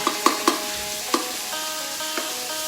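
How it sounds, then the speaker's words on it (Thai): Stink beans with shrimp paste and minced pork stir-fried in a hot pan with sauce, a continuous sizzle broken by several sharp scraping and clanking strokes of the spatula, close and with no talking. "ผัดให้หอม"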